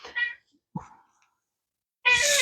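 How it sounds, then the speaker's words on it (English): A chatty house cat meows several times nearby: a couple of brief chirping calls, a pause, then a louder drawn-out meow. "My cat is right behind me."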